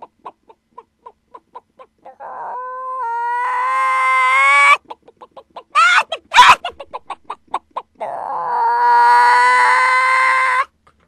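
A person imitates a hen clucking in a radio studio: a run of short, evenly spaced clucks, then drawn-out squawking cackles, more clipped clucks and a final long cackle, loud and close.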